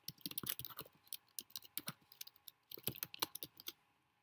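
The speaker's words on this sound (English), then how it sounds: "you're typing in the name of your file" Rapid, uneven keystrokes on a computer keyboard as a file name is typed into a search box, close and fairly quiet, with a short pause midway before another burst of clicks.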